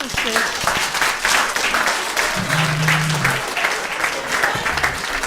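Audience at a Saturday night spirit-seekers live show clapping steadily and fairly close, with a voice speaking and calling out over the applause partway through.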